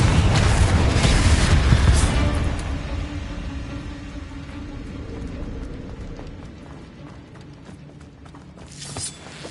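A Confringo fire spell detonates in Hogwarts Legacy, a loud booming blast at the start followed by a long rumbling decay with creaks and small pops, and another burst near the end.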